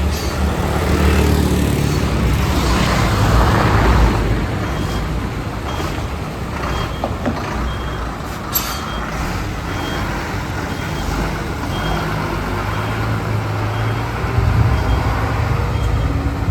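A bus rolls along a road: a continuous low engine rumble and road noise throughout, fairly loud, with no voices.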